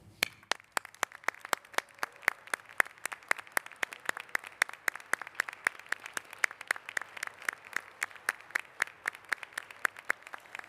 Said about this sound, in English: Would family members please stand for applause and congratulations?